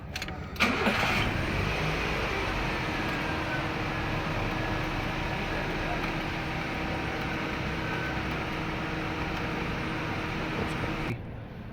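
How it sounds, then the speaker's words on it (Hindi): A Toyota XLI car with a 1NZ FE engine cranks and catches at once, then settles into a steady, close idle that runs on alone for about ten seconds before cutting off. "गाड़ी स्टार्ट करें ज़रा एक मिनट।"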